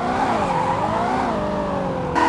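A car engine in the video game Car Parking Multiplayer whines at a steady high pitch while drifting, with the tone sliding gently before a sharp jump in revs near the end.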